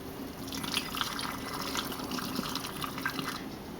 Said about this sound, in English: We're going to pour it on into the bottle.